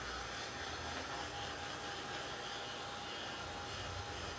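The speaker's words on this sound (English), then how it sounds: "So, this is my little dryer. It's a little craft heat gun." A small craft heat gun blows a steady, loud whirring hiss while drying chalk paint on a black canvas, with no break in the sound.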